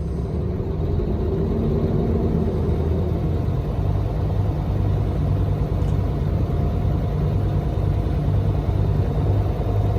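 Truck engine revving during an air brake test, a steady low rumbling idle with a gradual rise in RPM, close and continuous throughout with no talking.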